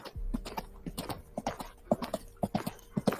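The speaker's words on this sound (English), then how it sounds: "I'm gonna turn off the horse sound because you guys get it" A horse clip-clop sound effect plays during a tabletop role-playing session. Steady, close hoofbeats trot in an uneven rhythm throughout with no talk over them.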